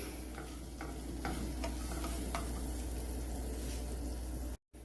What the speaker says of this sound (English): throw some chili powder in there and just mix it about